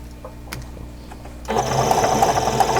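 A sewing machine stitches a quilt block through the presser foot, starting after a quiet moment with soft handling noises and then running in a steady, close, continuous whir.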